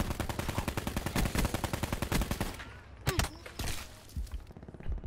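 Rapid automatic gunfire and single shots in Call of Duty Black Ops 4 on the Alcatraz map, loud dense bursts in the first half, then scattered nearer shots and thuds.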